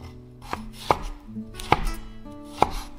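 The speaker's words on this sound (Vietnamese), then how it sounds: "Còn một trái cà chua này mình cũng cắt muối cam." A knife slices a tomato into wedges on a cutting board with four crisp, separate chops spread over a few seconds, close and clear, with no talk.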